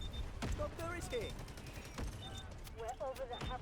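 Gunfire in the Delta Force video game: scattered sharp shots and bursts, some distant, under game sounds and tonal effects, while players talk over it.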